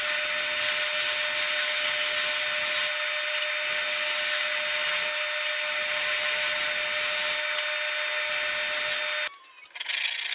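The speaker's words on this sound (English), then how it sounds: "now I'll trim them and do a little contouring on the back side and smooth everything out here" Steady abrasive rubbing of hand tools trimming, contouring and smoothing the back of an ebony archtop guitar tailpiece, continuous and close with soft pauses, stopping abruptly near the end.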